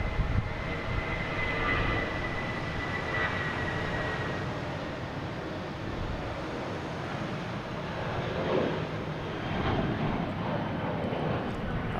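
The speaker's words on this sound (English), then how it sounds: "How's this JetBlue heading to Buffalo that flew by?" A JetBlue airliner bound for Buffalo flies past at Boston Logan International Airport, a steady, fairly distant broadband jet roar holding level throughout without any talk.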